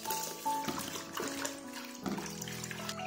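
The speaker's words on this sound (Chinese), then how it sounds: "提前泡发的香菇给它清洗一下" Soaked shiitake mushrooms are rinsed in running water, with a faucet trickling and splashing alongside soft handling and sloshing, close and fairly quiet.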